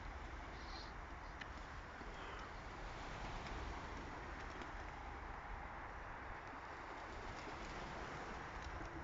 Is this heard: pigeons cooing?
yes